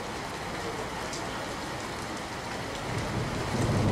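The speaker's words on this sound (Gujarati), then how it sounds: "છોટાઉદેપુર જિલ્લાના બોડેલીમાં ધોધમાર વરસાદ વરસ્યો છે" Heavy monsoon downpour in Bodeli, Chhota Udepur district, Gujarat, a thick continuous roar of rain that swells louder near the end, with no speech.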